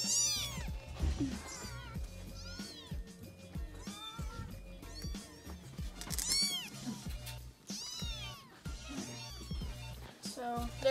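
A cat meows repeatedly in a home, with a string of close, clear meows and drawn-out cries, some overlapping a person talking nearby.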